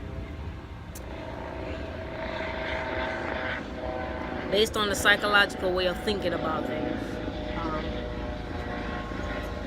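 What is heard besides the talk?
Broward Sheriff police helicopter flying overhead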